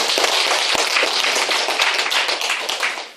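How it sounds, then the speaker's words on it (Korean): A church congregation applauds after a praise contest, loud, close and dense clapping with sharp individual claps standing out, sustained steadily throughout before easing slightly at the end. "다시 한번 우리 찬양대회 박수 한번 드립니다."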